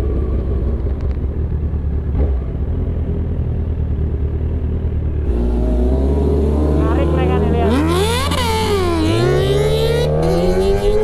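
Sport motorcycles such as a Kawasaki ZX10R and Yamaha R6 revving on a road, engines rising and falling in pitch with loud throttle bursts after a steady rumble, while someone talks over them.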